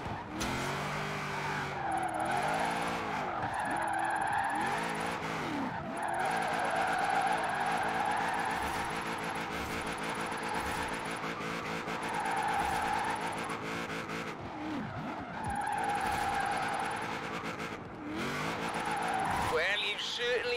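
In Forza Horizon 4, a car drifts through a Drift Club event, its engine droning steadily while tire skids squeal again and again in long sweeps across the stretch, under the continuous sound of the game.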